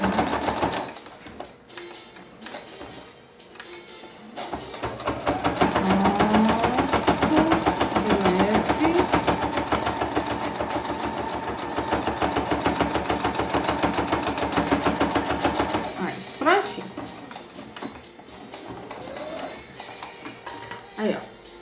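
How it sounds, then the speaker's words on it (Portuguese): A sewing machine runs a long continuous topstitching pass on a fabric vaccination booklet cover, a steady mechanical whir with rapid needle rhythm, starting and stopping with someone talking before and after. "Agora eu vou passar o pesponto para dar um acabamento"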